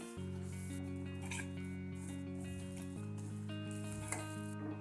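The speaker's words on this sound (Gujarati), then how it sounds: "લાલ મરચું પાવડર, ધાણા જીરું, બધું બરાબર મિક્સ કરી લઈએ." Spiced fenugreek leaves, with red chilli powder, coriander-cumin powder and jaggery, sizzle and fry steadily in a pan while being stirred, a continuous close hiss with a few soft scraping touches and no talking.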